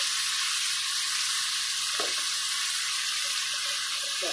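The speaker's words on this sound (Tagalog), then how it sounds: "Haluin lang po hanggang maging golden brown na yung ating karne" Meat frying in a pan while being stirred, a steady loud sizzle throughout with a few soft scraping stirs near the middle and end.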